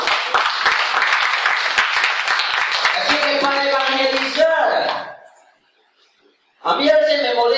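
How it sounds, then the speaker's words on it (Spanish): Church congregation applauding loudly in a dense burst, with a singing voice rising over the clapping before a short silence and another swell of sound. "Den un aplauso fuerte al Señor."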